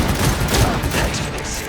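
A rapid burst of gunfire in a Cyberpunk 2077 cutscene: dense, loud, overlapping shots over a short span with no clear gaps.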